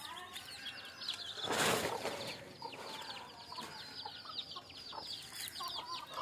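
Native country chickens cluck near the recording point in a rural setting. Repeated short clucks come over a soft outdoor background, with a brief louder rustle or flap of wings early on.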